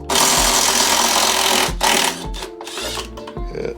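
A power tool, likely an impact driver, backs out 2 1/2 inch bolts on a snow blower under repair, running in loud buzzing bursts of about a second and a half each, with short pauses between.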